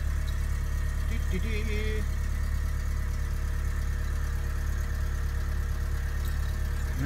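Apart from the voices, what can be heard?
Mercedes CLK 200 2004 engine idling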